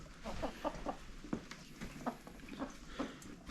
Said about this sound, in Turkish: Tavuklar burada. Tavuklar tepeye dönüyorlar.